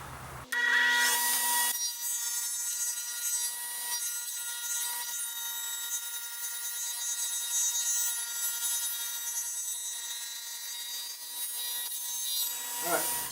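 A power saw cuts a wooden board while a shop stool is being built. Its motor spins up into a loud, steady whine that holds for about twelve seconds, then winds down.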